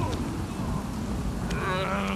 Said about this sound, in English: The rain is just not okay.